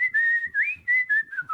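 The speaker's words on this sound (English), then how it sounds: "the dogs are not going to like me whistling" A person whistles a wavering melody in several short phrases separated by brief pauses, close and clear with no talking.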